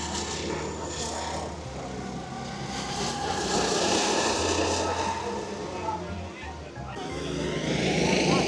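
Race cars lapping the Phillip Island motor circuit, loud engine roars rising and falling as cars pass by, with crowd ambience underneath.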